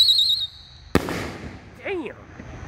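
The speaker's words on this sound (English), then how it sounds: "This is also the red plum effect by AFW." An AFW canister shell with a red plum effect bursts with a single sharp, loud bang, followed by a fading crackling echo and a brief whistling tone, set against a quiet outdoor background.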